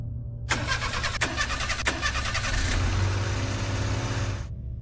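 A car engine cranks after the key is turned, then catches and runs steadily for several seconds. It is close and loud, with no talking.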